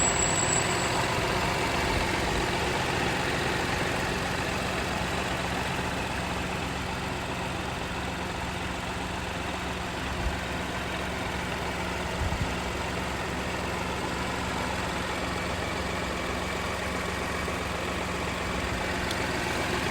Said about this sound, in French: Et c'est un moteur essence, bien évidemment, qui reste très, très, très silencieux.